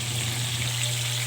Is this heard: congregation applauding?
no